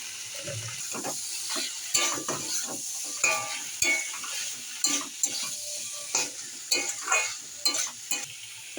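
Vegetable stalks seasoned with salt cook down in a pan for shukto, giving a soft sizzle under sharp, regular spatula scrapes and clinks that come every second or so, close and clear, with no voices.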